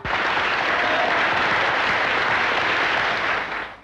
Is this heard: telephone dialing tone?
no